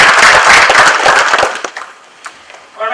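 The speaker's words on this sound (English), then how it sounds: "So can we give them a very quick round of applause?" A conference audience gives a quick round of applause, loud and dense at first, then thinning out and fading to scattered claps within a couple of seconds.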